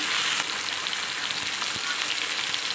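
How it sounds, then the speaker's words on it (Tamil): Fish frying in hot oil for a Tamil fish fry, a dense, constant crackling sizzle that stays loud and even throughout with no voices. "நல்லா மீனை வந்து வறுத்துடலாம்"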